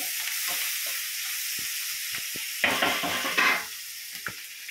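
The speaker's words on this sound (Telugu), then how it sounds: "సో దీన్ని ఫ్రై చేసుకుంటున్నాం, కొంచెం టేస్ట్ కూడా బాగా వస్తుందని చెప్పి" Vegetables and leftover white rice frying in a pan for gobi fried rice, a steady close sizzle broken by stirring scrapes and a couple of louder bursts of hissing, with no talk.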